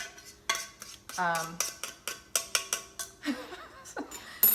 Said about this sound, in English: she's going to dump the chicken into the bowl